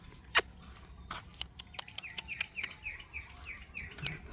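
Birds sing on a farm with quick, repeated chirps and short whistled calls, mostly faint to moderate at some distance, over a soft background with a sharper tap near the start.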